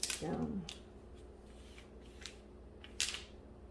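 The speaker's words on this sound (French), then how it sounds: "j'enlève ça et je la replace lentement pour éviter d'avoir des plis dans le plastique" A plastic protective sheet lifted and laid back down over a diamond painting, producing brief soft crinkles and rustles at the start and end, with faint quiet stretches between.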